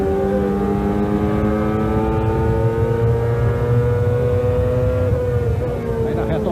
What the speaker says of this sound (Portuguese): O André, presta atenção no barulho do motor Toyota do Bruno